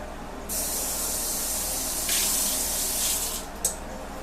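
Tap water gushes with a steady hiss, surging louder midway as the stream strikes a can, then cuts off abruptly near the end.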